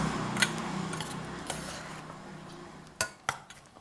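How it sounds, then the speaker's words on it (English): Utensils clinking against a bowl while tossing Thai beef salad with lime juice and fish sauce, soft scraping and stirring punctuated by a few sharp metallic taps near the end, close and alone. "Mix in all those ingredients."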